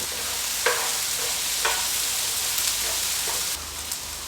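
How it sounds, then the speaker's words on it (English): Onions fry on a hot griddle plate with a loud, steady sizzle and a few scraping spatula strokes, close and without talk. "Now we're waiting for the onions to cook."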